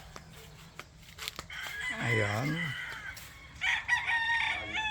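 Roosters crow loudly on a farm, one long wavering cock-a-doodle-doo in the middle followed by another crow, with chickens clucking around and someone speaking briefly at the start.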